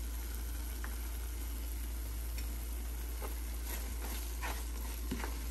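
A spoonful of ghee sizzles in a pan while beetroot burfi is being made, giving a steady soft frying hiss with a few scattered ticks and small pops, close and fairly quiet, with no voice.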